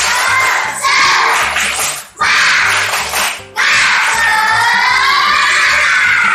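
Schoolchildren in a classroom chant and clap together in a loud, rhythmic spirit cheer, with two short pauses breaking the burst of voices and claps.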